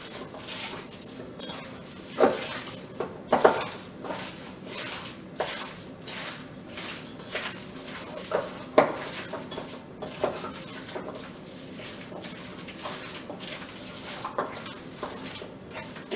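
Hands mixing elk meat with spices in a bowl for jerky: a steady wet squelching and stirring with scattered louder clicks against the bowl, close and continuous, with no voices.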